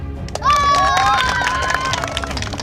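A crowd at an outdoor comedy show in Bihar claps in a quick, uneven patter that runs for about two seconds, while loud voices shout and talk over the clapping.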